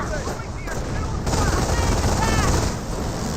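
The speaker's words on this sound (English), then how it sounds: "Here comes another strafing run." Company of Heroes strafing run gunfire: dense, continuous machine-gun fire over battlefield noise, loud and sustained, with a voice talking faintly underneath.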